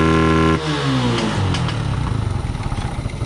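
A Suzuki Smash 115 underbone motorcycle with a diaphragm carburetor revving up close as the throttle is snapped open, the engine note climbing quickly and then settling into a fast, rough, clattering idle.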